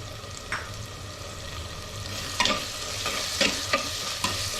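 Tomatoes sautéing in a pan with onion, ginger and garlic for a country chicken curry, a continuous close sizzle with a few scraping stirs of a spatula over it.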